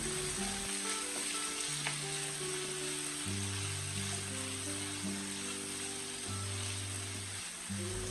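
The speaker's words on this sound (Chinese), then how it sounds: "把洋葱炒至入味。" Onions seasoned with salt and dried chilies stir-fry in a wok, giving a soft continuous sizzle under steady sustained low tones, with no clear stirring strokes standing out.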